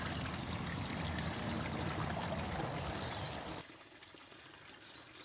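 Steady trickle of water in a garden pond in autumn, a continuous close wash of flowing water that drops to a quieter, thinner trickle near the end.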